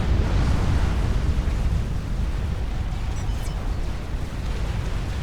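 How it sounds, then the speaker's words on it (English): A nuke detonating in the strategy game Forged Alliance Forever, heard as a sustained, loud, rumbling roar with a dense low-end wash that holds steady for several seconds without a sharp onset. "That's another vast amount of mass killed for that nuke"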